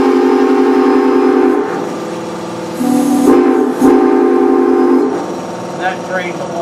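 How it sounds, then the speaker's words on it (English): A 6-chime train whistle mounted on top of a whistle shop blasts a loud, sustained chord in two long blows with a brief break between, then a softer tail with some background sound at the end. "we can show you what the actual 6-chime whistle sounds like on top of our shop"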